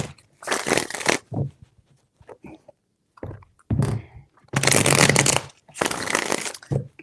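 Tarot cards are shuffled in several quick bursts of riffling and crisp card noise, close up, separated by short pauses with light handling sounds between them.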